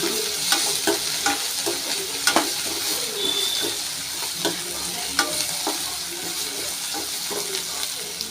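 Bitter gourd is stir-fried with rock salt in a pan. Repeated sharp spatula scrapes and clacks sound over a bright, steady sizzle, close and fairly loud.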